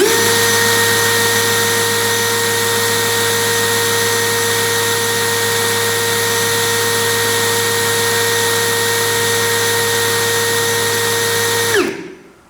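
An XAPR AP34 Pro cordless brushless drill runs steadily at speed 2, a loud, even whine with a constant pitch that holds for about twelve seconds before spinning down abruptly at the end.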